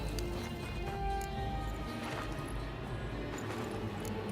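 Horse hooves clip-clopping at a steady gallop in The Witcher 3, a continuous run of beats over a dense, full game soundscape.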